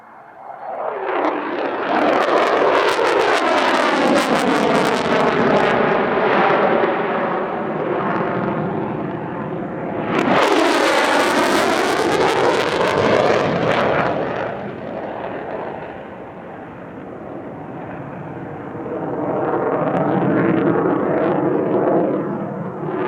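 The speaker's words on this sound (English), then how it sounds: "the trademark manoeuvre of F-35 displays from all branches of the US military a high alpha tactical pitch" An F-35 fighter jet roars loud and continuous through a high alpha tactical pitch at the California International Airshow, its engine noise swelling, shifting in pitch and surging again as it passes close overhead.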